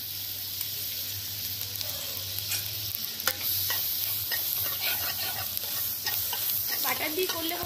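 Cumin seeds frying in butter in a pan give a steady close sizzle, with stirring scrapes running through it and no talking.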